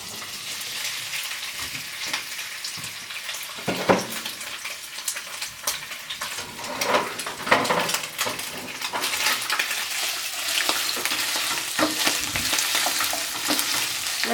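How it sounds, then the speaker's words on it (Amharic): Steady crackling sizzle of meat frying in a hot pan for Ethiopian derek tibs, with occasional scraping and stirring clinks, no voices. "አሁን ስጋውን መጥበሻው ላይ አደርጋለሁ"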